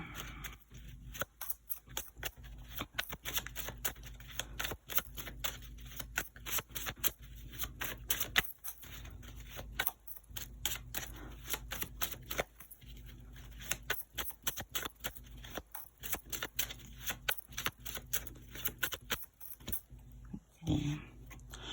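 Tarot cards being shuffled and pulled, a faint run of soft papery riffles, flicks and slaps repeating steadily at close range, quiet and without talk.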